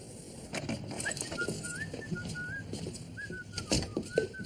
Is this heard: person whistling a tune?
yes